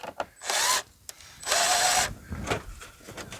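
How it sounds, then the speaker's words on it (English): Power drill driving screws into a wooden wheel well table in a minivan, two loud whirring bursts close by followed by a shorter, weaker one, with brief clicks between. "I'll just go ahead and screw that right in."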